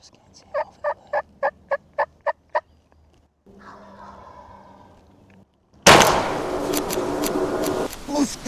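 A wild turkey on Tennessee public hunting land gobbles in a rapid run of about eight sharp pulses. A quieter stretch of rustling follows, then a sudden loud burst of broadband noise.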